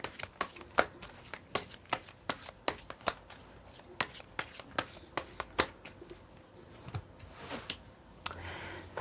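Tarot cards are shuffled and drawn by hand in a quiet room, giving a string of sharp, close snaps and flicks at an irregular pace with soft rustling between them.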